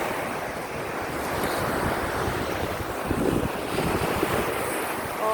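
Steady wash of sea waves breaking on a shore, broad and continuous with some wind rumble, no voices.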